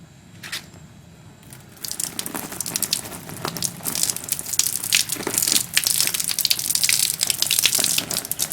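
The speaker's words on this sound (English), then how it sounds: "I'm just going to have my wife reach over the top and start pouring some water on." Water poured from above onto a waterproofed canvas hood, a steady splashing gush that starts after a quiet moment and grows loud and dense, with crackling patter as it runs off the treated fabric.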